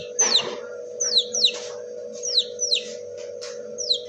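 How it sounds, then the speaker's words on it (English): A five-week-old chick, recovering after getting its head caught, gives short high tweets in a loose series of about eight chirps over a steady low electrical hum, close and fairly clear. "He is tweeting properly."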